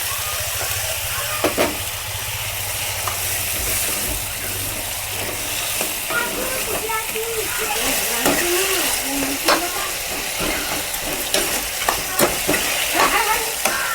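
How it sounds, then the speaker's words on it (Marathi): Chopped tomatoes added to garlic frying in a pan for a spicy tomato chutney, a loud steady sizzle with stirring scrapes and bubbling pops, close up and alone without speech. "आता टमाटे कापले होते ना आता टाकून घेऊ टमाटे"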